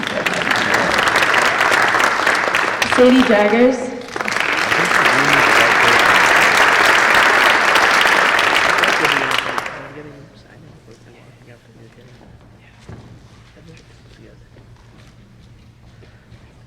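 Audience applause at a high school National Honors Society induction ceremony, a dense steady roar of clapping broken by a brief dip, then fading out as a speaker reads names under and after it.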